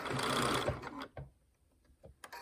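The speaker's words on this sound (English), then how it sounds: "So I'm using my edge of my presser foot as my guide for my 1/4 inch seam." A sewing machine running a quarter-inch seam on knit fabric, with a loud continuous stitching burst that stops abruptly, followed by quiet clicks and handling of the fabric.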